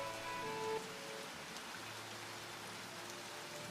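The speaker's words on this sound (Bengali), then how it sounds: "আকাশ ভেঙে তখন মুষলধারে বৃষ্টি নামল।" Heavy rain pours steadily as a dense, continuous hiss of drops on surfaces, with a faint tonal hum early on; no one speaks.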